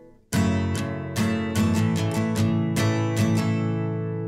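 An acoustic guitar strums one full bar of a song's intro, a steady run of bright, close, even down and up strokes ringing over each other with no voice.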